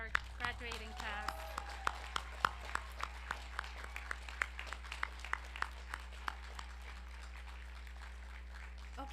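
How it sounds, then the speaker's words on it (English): Sparse, evenly spaced claps, fairly quiet and seemingly from a few hands, greet the graduating class at a community college nursing pinning ceremony, with a low steady hum underneath. "Let's give a round of applause to our graduating class."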